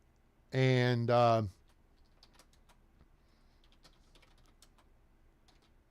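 Faint, scattered computer keyboard clicks tap away in the background after a short loud vocal sound at the start.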